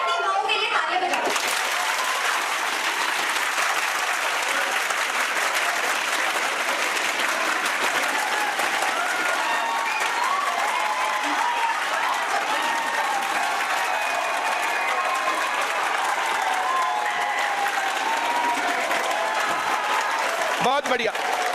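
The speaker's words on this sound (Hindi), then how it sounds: "अपनी अपनी माँओं के लिए तालियां बजाओ।" Students in a classroom clap for their mothers, a dense, loud burst of applause sustained for about twenty seconds without pause, with some voices mixed into the crowd.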